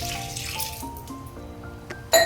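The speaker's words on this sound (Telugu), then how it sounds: "వీటిలోని గ్లాస్ వాటర్ వేసుకోండి." A glass of water is poured into a cooking pot of lentils and tomato with turmeric and chili, making a short, close gurgle of liquid that ends with a sharp clink.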